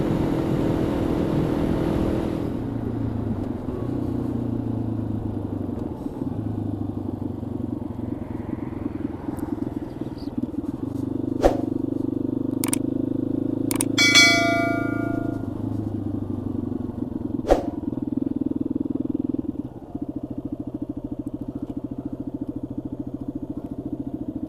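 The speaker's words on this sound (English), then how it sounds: "Perfect, fuel station here." A motorcycle idles steadily at a fuel station in Morocco during a refuelling stop, its low engine hum continuous and close, with a few sharp metallic clicks and clanks partway through.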